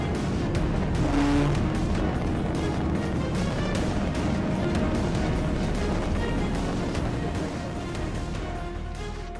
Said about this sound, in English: pushed the vehicle over 100 miles per hour, blew through stop signs, swerved into oncoming lanes